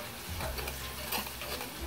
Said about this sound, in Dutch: Goed bakken, bakken, bakken. En dan zet ik de stukjes iwak malem daarin met graatjes erbij.